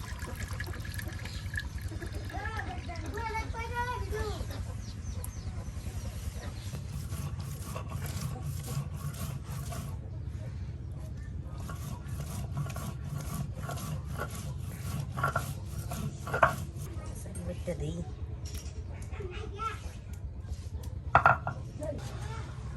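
Rice is ground into paste on a grinding stone: continuous rhythmic rubbing and grating of stone on stone with a wet, gritty texture, steady throughout, with occasional knocks and background voices.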